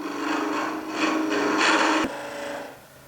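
A parting tool cuts into a wooden tool handle spinning on a lathe, making a steady, close scraping and rasping that swells in the middle and then cuts off abruptly.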